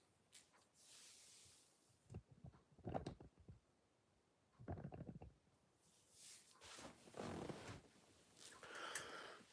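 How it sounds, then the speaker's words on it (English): A person blowing their nose, several separate soft honking, snorting bursts at close range, faint and spread across a quiet background. "I just blow my nose."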